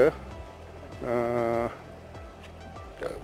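A Ladakhi Pashmina goat on a goat farm in Ladakh gives one clear, drawn-out bleat lasting about half a second, with fainter animal calls and a voice at the start and end.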